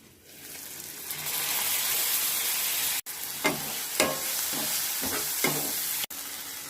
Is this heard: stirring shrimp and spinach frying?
yes